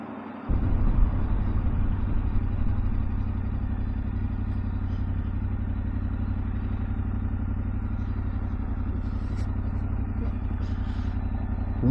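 A 2023 Yamaha Ténéré 700 motorcycle being ridden, its engine a steady loud droning rumble that starts abruptly and holds constant under wind noise, with no speech.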